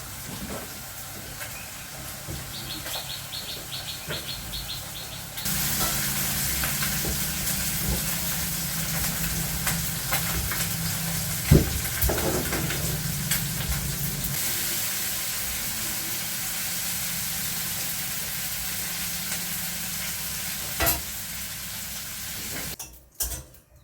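Fish sizzles and hisses steadily in a hot pan, with the frying growing louder partway through, occasional utensil clinks and stirring scrapes, close and without talk.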